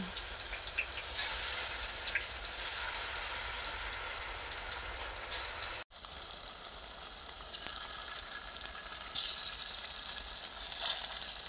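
Masala-marinated chicken fries in hot oil with curry leaves for Kerala-style dum biryani, giving a dense, even sizzle like steady rain, close and continuous, with one brief dropout midway and no talking.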